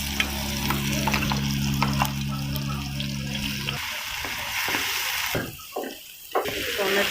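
Ginger, garlic and onion paste with dried chillies and five-spice seeds sizzles in hot oil in a kadai, a steady close hiss with a low hum that gives way partway through to a few quieter bursts.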